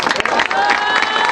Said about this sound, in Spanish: ¡Fuerte el aplauso!